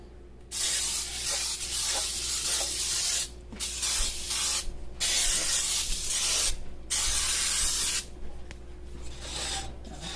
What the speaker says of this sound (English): We're gonna spray our pan down with Baker's Joy